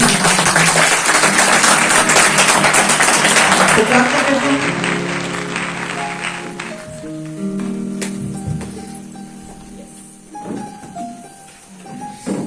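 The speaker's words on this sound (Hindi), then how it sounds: "परमेश्वर के नाम में जोरदार तालियों के साथ" A congregation at a church service claps loudly for the first few seconds, then the dense clapping fades as a voice speaks and sustained tones from a keyboard or organ come in under it.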